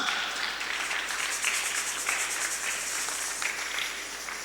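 A Sunday-school congregation gives steady applause, a dense patter of many hands clapping at moderate distance, sustained evenly throughout without talk.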